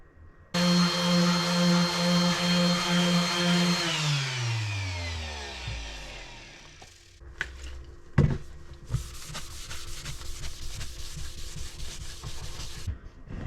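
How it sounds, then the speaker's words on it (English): A power sander whirs loudly, then spins down, followed by scratchy rubbing and sanding strokes on a router-carved wooden clock. "I'm going to do some sanding now"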